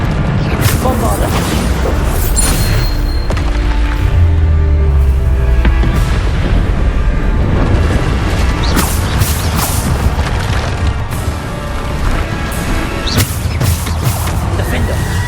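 Bombarda spell blasts go off during combat in Hogwarts Legacy, deep booms and crashing impacts repeating over a continuous loud game soundscape with voices mixed in.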